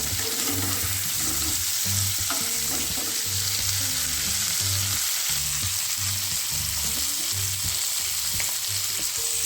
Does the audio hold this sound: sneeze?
no